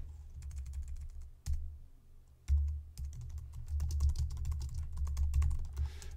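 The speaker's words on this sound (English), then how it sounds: "So we can start typing in" Rapid clicking keystrokes on a computer keyboard, typed in bursts with short pauses, fairly close and quiet.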